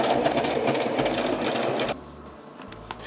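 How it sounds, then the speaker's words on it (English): A sewing machine stitches two halves of faux leather together, running in a steady, fast continuous whir for about two seconds before stopping, leaving quiet room noise with a faint click. "With the two halves now sewn together"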